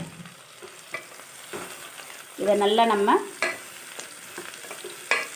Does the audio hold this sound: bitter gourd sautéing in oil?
yes